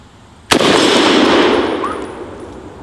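A Galil .308 rifle fires one sharp, loud shot at an outdoor range, followed by a long rolling echo that slowly fades over about two seconds.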